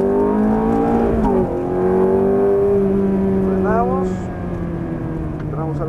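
A Ferrari F430 on a race track pulls hard under full throttle, its engine a loud, steady, close roar that climbs and shifts in pitch, with a voice speaking over it.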